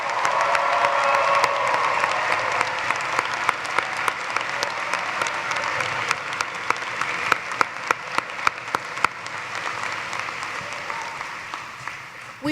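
Graduates at a university commencement in an arena are greeted with a long, dense wave of applause from the crowd, carrying some cheering and sharp individual claps, before it gradually thins out.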